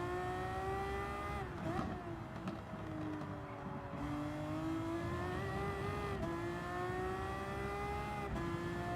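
Race cars in Gran Turismo 7, including a Ferrari F50, engines droning loud and continuous with rising and falling pitch through gear shifts and braking, a brief tire squeal, no talk.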